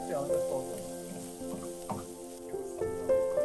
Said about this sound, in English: Then we will fry the spicy broad bean paste or la doubanjiang until it becomes fragrant.